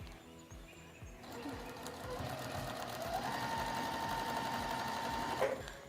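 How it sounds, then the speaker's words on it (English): A sewing machine stitches quilt fabric with a steady, rapid mechanical whir and needle chatter, close and continuous, picking up speed partway through before it stops near the end. "So take it over to our sewing machine, place our foot down,"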